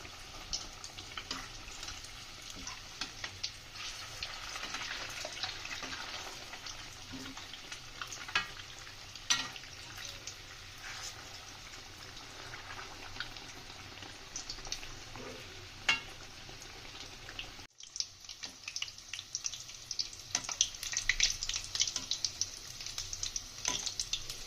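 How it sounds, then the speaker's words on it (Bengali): Soybean devils fry in hot oil with a soft, continuous sizzle and irregular pops, while occasional clinks and scrapes mark them being turned; a brief dropout near the end precedes a slightly busier crackle. "আমরা সয়াবিনের ডেবিলগুলো উল্টে পাল্টে দেবো"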